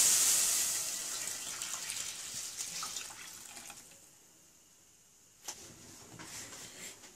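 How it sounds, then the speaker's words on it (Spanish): Hot milk, warmed without boiling, poured into a whisked mixture for a chicken and serrano ham soufflé, a steady splashing stream that fades after a few seconds, followed by a brief clink. "Ponemos la leche caliente sin que haya hervido."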